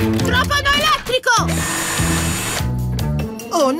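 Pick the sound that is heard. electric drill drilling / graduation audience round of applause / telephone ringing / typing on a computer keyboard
electric drill drilling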